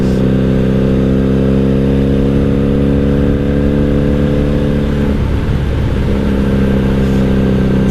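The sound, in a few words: 1997 Honda Magna VF750C motorcycle with Vance and Hines exhaust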